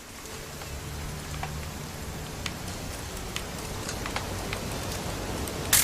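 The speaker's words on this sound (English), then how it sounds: "It's gonna rain the whole weekend" Rainfall from the video game What Remains of Edith Finch, a steady hiss of drops pattering on surfaces with occasional sharper individual drips, even and moderately soft throughout.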